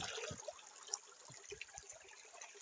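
Natural farm spring water trickles and dribbles softly at a rural drinking-water source, a faint steady flow with scattered small splashes and no voices.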